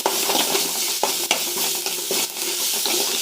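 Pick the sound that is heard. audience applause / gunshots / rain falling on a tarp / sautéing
sautéing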